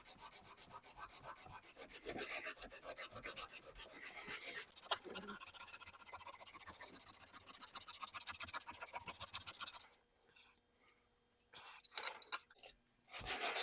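Hand sanding of dented stainless steel trim with a lubricant on the surface, soft quiet rubbing strokes in an uneven rhythm, close and faint, fading to scattered scratches near the end, no talking.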